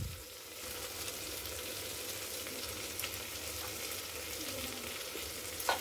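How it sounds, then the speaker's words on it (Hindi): Vegetables frying with spices in a pressure cooker for veg biryani, a soft, even sizzle with faint stirring scrapes that stays steady throughout. "थोड़ा मसालों के साथ सब्जियों को अच्छे से आप इसे भून लें।"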